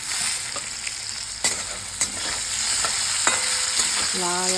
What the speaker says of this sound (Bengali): দিয়ে এবার এটাকে ভেজে নিচ্ছি